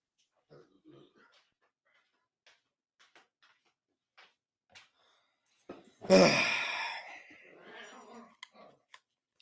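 Dog giving a single close, breathy growling huff with a whimpering trail after a stretch of near silence broken by faint scattered ticks and movement noises.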